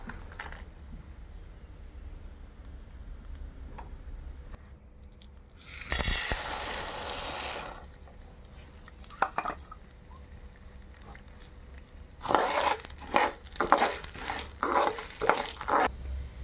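Ingredients frying in a pan while making drumstick-leaf spice powder, with a faint background hiss broken by two louder bursts of sizzling and scraping, one short and one longer with a run of clattering stirs.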